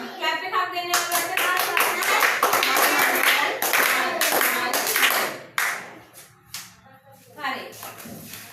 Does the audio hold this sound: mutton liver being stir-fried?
no